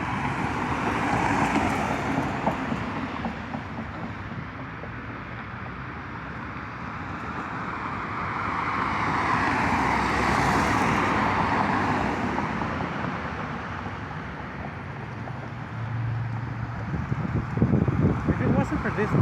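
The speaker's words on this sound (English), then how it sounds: "Oh, now there's more cars coming." In the Goosebumps Attack of the Mutant video game, cars drive past on a road as a steady rush of traffic noise, swelling and fading as vehicles go by, with a voice talking over it.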